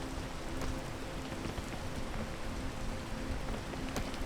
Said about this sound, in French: Oh, la pluie.